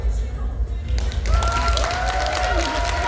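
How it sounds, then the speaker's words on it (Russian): Audience at a company stage event breaks into applause, dense clapping with some cheering and a few voices over a low rumble, loud and sustained for a few seconds. "Бурные аплодисменты, дорогие друзья."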